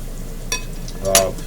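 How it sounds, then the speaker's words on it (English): State-fair-style food sizzles steadily in hot oil, and two quick metallic clinks ring out over the frying. "When I'm working with oil frying like this"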